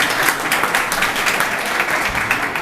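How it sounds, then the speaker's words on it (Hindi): Loud, steady applause from an audience at an award ceremony for wrestlers in Malegaon, many hands clapping in a dense, continuous wash with no talk over it. "उनके लिए एक बार ज़ोरदार तालियां हो"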